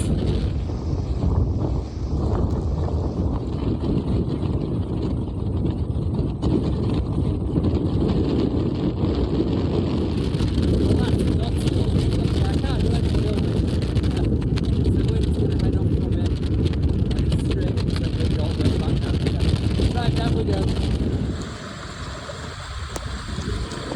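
Strong wind blows across the Howgill Fells and roars steadily against the microphone for the whole stretch, loud and close. It eases slightly near the end.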